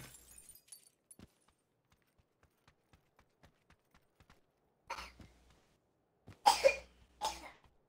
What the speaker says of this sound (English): Just coughing.